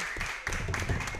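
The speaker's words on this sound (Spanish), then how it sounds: "Un aplauso" A small group applauds on a talk show set, brief scattered hand claps that grow denser after a moment, fairly close, with voices mixed in.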